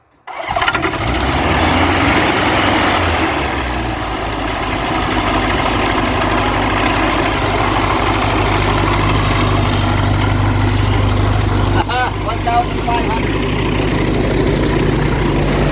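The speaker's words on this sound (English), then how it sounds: "Okay, that's a better idle speed." Searey seaplane engine catching on start and settling into a loud, steady propeller-driven idle close by, a continuous rumble with a brief shift near the end.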